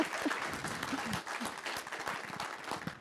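Audience applause at a healthcare networking meetup, a steady burst of clapping from a room of people lasting about three seconds, with faint voices mixed in.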